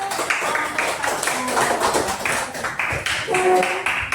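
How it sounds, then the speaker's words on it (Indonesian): Classroom applause, hands clapping in an uneven, continuous patter at close range for several seconds, with faint voices underneath. "Tepuk tangan."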